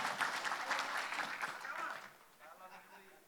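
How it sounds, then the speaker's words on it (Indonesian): A crowd applauds at an Indonesian political party gathering, making a quiet, distant ripple of clapping that fades out after about two seconds under a murmur of voices. "Tepuk tangan untuk kita semua."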